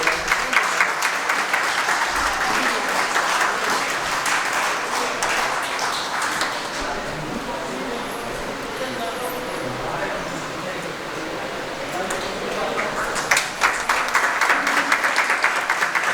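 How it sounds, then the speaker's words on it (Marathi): An audience claps at a felicitation ceremony honouring Shri Jain, sustained applause of many hands, fairly loud and continuous with brief swells, while a voice speaks over it through a microphone. "जोरदार टाळ्या वाजवायच्या, टाळ्यांचा कडकडाट कमी येतो आहे"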